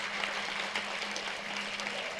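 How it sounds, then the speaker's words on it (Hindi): An audience breaks into applause at the opening of a drama event before prize distribution, a continuous moderate wash of clapping with no break across the clip. "एक बार जोरदार तालियां बजाइए सब के लिए।"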